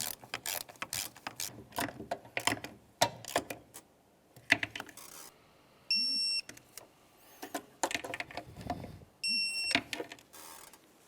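Nuts on a master cylinder of a 1999-2003 Toyota Solara are tightened and torqued, giving a run of quick metallic ratcheting clicks in short bursts, close and fairly loud, with two brief electronic beeps in between.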